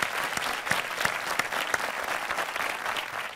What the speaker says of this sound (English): On peut mettre nos mains ensemble pour tout le monde.